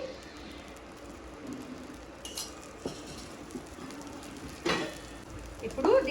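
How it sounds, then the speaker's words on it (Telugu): Oil sizzles on a dosa cooking on a hot pan, giving a soft, steady crackle with a few light spoon and pan clinks, close but fairly quiet. "ఇలా దోశ వేసుకున్న తర్వాత దీని మీద ఒక స్పూన్ ఆయిల్ వేసుకోవాలి"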